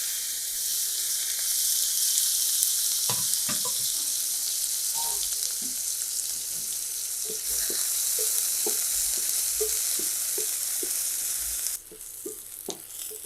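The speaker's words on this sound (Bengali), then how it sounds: "পেঁয়াজটা ভাজা হয়ে গেছে।" Chopped onions fry in hot oil for an okra and potato curry, giving a steady, close sizzle with scattered light clicks and scrapes of stirring, and no talking.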